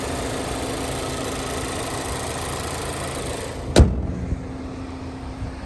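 A Mazda's clean engine idles steadily and close by for several seconds, then a sharp thump cuts in near the end and the hum drops lower and quieter.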